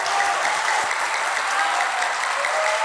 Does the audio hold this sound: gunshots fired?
no